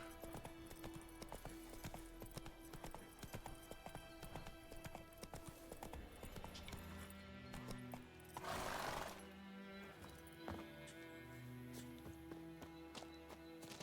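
Roach the horse's hooves clip-clop steadily in The Witcher 3, with a rhythmic gait under a busy, faint game soundscape with music and ambience.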